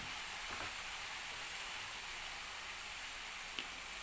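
Peppers frying in a pan while a plantain pizza with veggies and eggs is made, giving a steady, even sizzle throughout with a faint click near the end.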